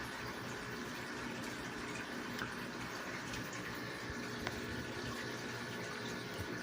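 Tap water pouring steadily into a betta breeding tank; a continuous, even splashing and gushing with no voices, moderately close.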